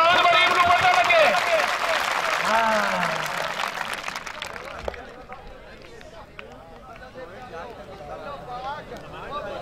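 Crowd applause at an open kabaddi match, loud clapping from a big outdoor crowd that fades after about five seconds while a commentator keeps talking excitedly over it.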